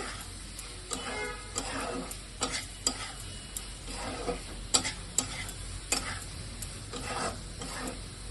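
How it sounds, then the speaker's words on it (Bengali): Potatoes for a pointed gourd and prawn curry being stir-fried in spice masala, with a steady sizzle and repeated sharp scrapes and taps of a spoon against the pan at an uneven rhythm, close by and without talk. "ভালোভাবে কষাবো এর মধ্যে, মশলাটার মধ্যে"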